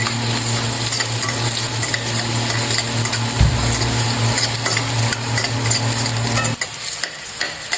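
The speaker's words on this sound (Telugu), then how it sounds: "ఆనియన్ను కొంచెం గోల్డెన్ బ్రౌన్ వచ్చేంత వరకు వేయించుకోవాలి." A cup of onions frying in two spoons of hot oil until golden brown, a loud continuous sizzle with steady stirring, one dull knock of the spoon and a low hum that cuts out near the end.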